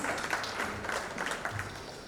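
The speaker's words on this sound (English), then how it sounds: "Please give a huge round of applause to them, guys." Steady applause from a crowd at an awards ceremony, continuous clapping at a moderate level with no talking over it.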